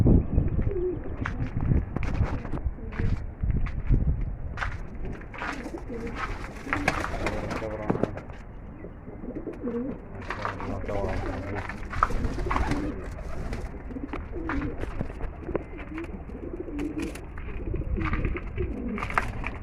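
Pigeons coo continuously from a loft of fancy breeds, with repeated low throaty coos and wing flutters close by, while someone talks intermittently over them.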